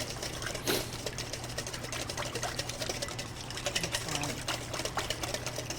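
A whisk beats olive oil into a vinaigrette dressing for a kale salad, giving a fast, continuous rattling and clicking patter at an even level, with no pause.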